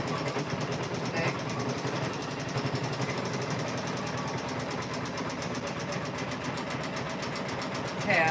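A Janome M17 embroidery machine stitches an in-the-hoop quilt block with a steady, rapid mechanical rattle that runs continuously throughout, loud and close, with no pauses.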